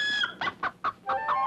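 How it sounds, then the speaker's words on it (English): A rooster calls in the morning with a series of short, rhythmic clucking bursts, close and clear, with no talk over them. "Still, he never missed a morning crow."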